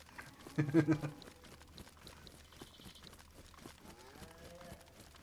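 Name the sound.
cow mooing in the video game DayZ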